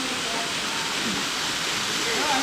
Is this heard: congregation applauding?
no